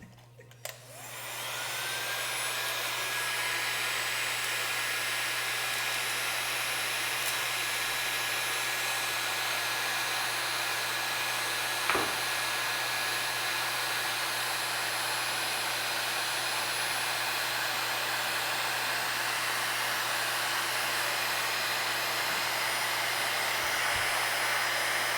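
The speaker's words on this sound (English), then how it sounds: "I'm gonna turn on this blow drying heat gun thing." A blow-drying heat gun switches on and blows hot air in a steady, loud whooshing roar with a constant hum beneath, running unbroken for over twenty seconds, with a couple of faint knocks and no speech.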